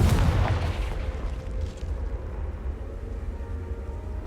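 A Confringo fire spell blast from Hogwarts Legacy on PS5 bursts loudly at the start and leaves a low rumbling decay with steady game ambience behind it.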